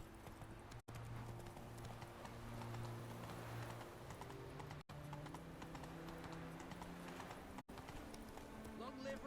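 Galloping horse hooves from The Witcher 3 video game, a steady rapid clip-clop running throughout with brief gaps, under in-game music and ambient sound.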